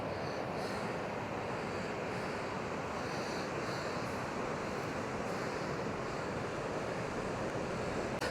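Surf washes steadily onto the beach at Wells-next-the-Sea, a continuous broadband roar of breaking waves with wind buffeting the microphone, no one speaking.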